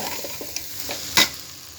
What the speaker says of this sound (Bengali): পোলাওটা মোটামুটি তেলে ভাজা হয়ে গেছে